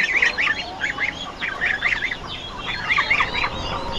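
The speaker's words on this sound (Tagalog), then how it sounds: "Dito po namin nilagay yung mga sisiw ng pato para hindi makain ng mga daga." Young ducklings kept in a pen call close by, with clusters of shrill, rapid peeping calls in repeated bursts, loud and busy, with no talking.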